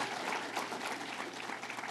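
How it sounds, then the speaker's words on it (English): A crowd at a political campaign event applauds for a county official, steady overlapping clapping heard from a moderate distance at fairly low level, with no speech over it. "So let's give her another round of applause for Laura Curran"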